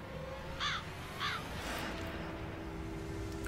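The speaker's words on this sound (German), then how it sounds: "Hier ist unser Freund der Rabe wieder." Two harsh raven caws from the video game Redemption Cemetery 4, spaced about half a second apart near the start, then fading into a low ambient game drone with a faint swell afterward.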